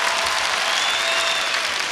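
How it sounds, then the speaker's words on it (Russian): Studio audience applauding at a televised comedy show for a pop star's introduction, dense steady clapping filling the whole stretch at even loudness with no voices on top. "Ваши аплодисменты!"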